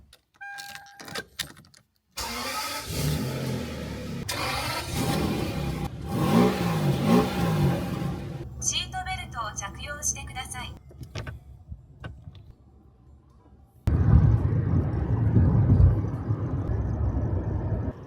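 A 1998 Toyota Century starts with keys and clicks, then its engine runs and drives with a steady, rising rumble, an electric window whirring partway through, and a voice talking at times.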